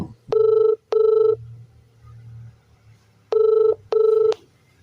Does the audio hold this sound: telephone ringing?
yes